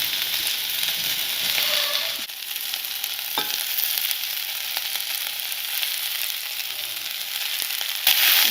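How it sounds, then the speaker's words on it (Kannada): Three kinds of capsicum fry in a pan for a chicken tikka bowl, giving a loud, continuous sizzle with occasional stirring scrapes close up. "ಈ ಥರ 1 ನಿಮಿಷ ಇದನ್ನು ಹುರ್ಕೊಳ್ಳೋಣ."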